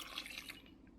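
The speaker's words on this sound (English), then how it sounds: "And then finally add your 190 ml of coffee" Brewed coffee poured into chocolate cake batter in a home kitchen, a brief, soft liquid trickle that fades out after about half a second.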